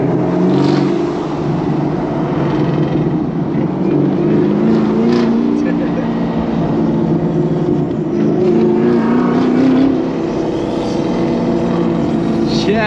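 A turbocharged Camaro ZL1 1LE engine drones loudly and continuously from inside the car on a rainy drive, its pitch rising and falling as the revs swell with turbo whine.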